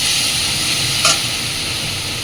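Onion, ginger, garlic, salt and turmeric sautéing in oil tempered with radhuni spice: a loud, steady close-up sizzle with one brief stirring clink, and no voices.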